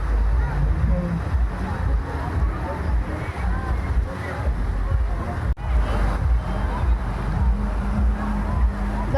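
Boats out on the open sea on the way to Boracay: a steady low engine rumble with wind buffeting and water washing along the hull, while people talk over it.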